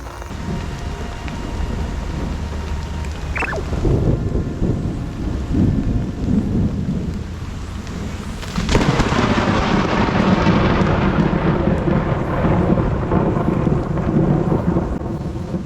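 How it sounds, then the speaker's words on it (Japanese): Sudden heavy downpour with thunder during a fishing trip on a river in Kazo, Saitama: steady hissing rain, a sharp nearby thunder crack midway followed by a long rolling rumble and intensified pouring rain. "雨が降ってきてしまいました。 結構ぼちぼち降って雷もちょっと光ってます。 雷も意外と近いですが"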